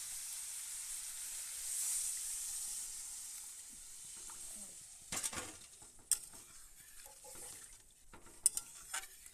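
Liquid gravy poured into spiced curry frying in oil, a steady broad sizzle that swells then settles, followed by sharp clinks and scrapes of a utensil stirring against the pot, close and clear with no talk.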